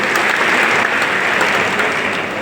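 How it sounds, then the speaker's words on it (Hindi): A large audience claps loudly and continuously, sustained applause for the country's armed forces and Delhi Police at a public speech event. "एक बार जोरदार तालियां देश की सेनाओं के लिए और हमारी दिल्ली पुलिस के साथियों के लिए।"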